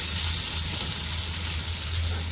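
Garlic and onion fry in a pan with a steady, close, continuous sizzle and crackle over a low hum, with no talking.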